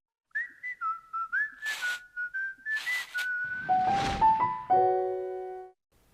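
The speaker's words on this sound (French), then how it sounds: "Vous avez forcément déjà entendu ce sifflement." A short, bouncy whistled jingle of quick chirping notes, with a few breathy swooshes mixed in, ending on a held tone.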